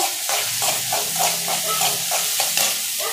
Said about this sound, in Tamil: பீன்ஸ் கேரட் இதெல்லாம் போட்டுக்கலாம் இது போட்டு வதக்கிட்டு